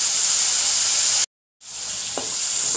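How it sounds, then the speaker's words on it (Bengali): Water poured over coconut pieces and spices frying in a pan for a Bengali jackfruit curry brings a loud, steady hiss of sizzling, which cuts out briefly and then resumes. "একটু জল দিয়ে দিচ্ছি যেন মশলাটা পুড়ে না যায়"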